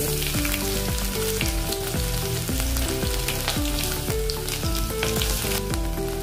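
Loud, continuous sizzling of asafoetida and garlic cloves frying in hot oil, crackling densely and close up the whole time.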